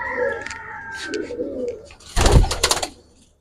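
Young silver Giribaz pigeons in a loft give soft, low cooing, followed by a sudden loud burst of rustling or flapping near the end.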